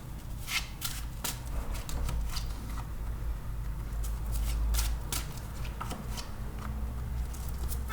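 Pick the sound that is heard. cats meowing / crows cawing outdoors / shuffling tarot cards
shuffling tarot cards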